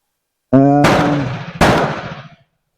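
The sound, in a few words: M4 rifle gunshots while sighting in a green laser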